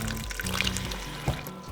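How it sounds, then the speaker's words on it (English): Cold filtered tap water poured into corn tortilla flour, a short soft trickle close by, faint and brief, with a low hum underneath. "now let's put a little bit of water in here, shall we?"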